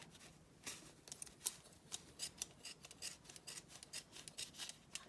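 Scissors snipping repeatedly, a quick irregular run of close, crisp cuts with no voices.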